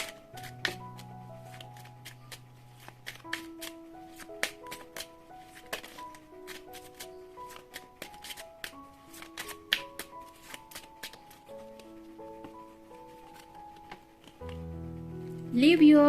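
Oracle cards are shuffled for a tarot reading, with soft, repeated papery riffles and taps over gentle melodic instrumental music, ending in a louder swell of music.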